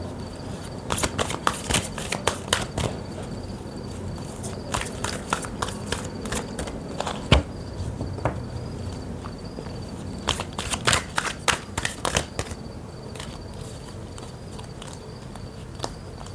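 Tarot cards are shuffled by hand in quick bursts of crisp riffles and slaps, close and fairly loud, with short pauses between the bursts and no talking.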